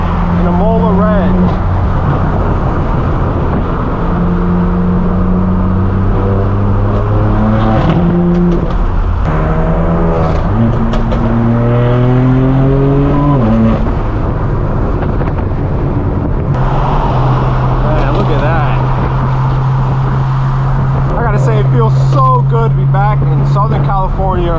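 A straight-piped BMW M4 F82 cruises among other BMW M cars, its loud raspy exhaust rising and falling through several gear changes with long sustained drones, wind buffeting the microphone and voices talking over it.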